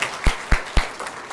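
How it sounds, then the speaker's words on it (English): Audience applause for a class of 4th and 5th grade students at a school pinning ceremony, heard as three sharp loud bursts at an even pace followed by fainter scattered claps. "let's give Ms. Lewis' students a round of applause"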